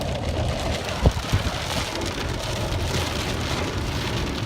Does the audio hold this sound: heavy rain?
yes